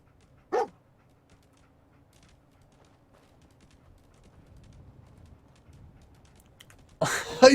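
Dogmeat, the dog in Fallout 4, barks once sharply near the start. Quiet faint rustling follows, then a louder burst of game noise at the end.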